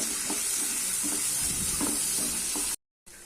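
Peas sizzling and crackling in a hot pan while being stirred, with a steady frying hiss and soft scraping stirs, then a brief cut to silence.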